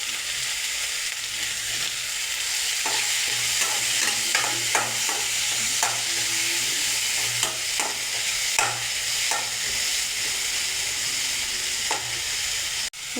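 Capsicum stir-fried in a pan, a continuous close sizzle with repeated clicks and scrapes of a spatula stirring the vegetables, alone without talk.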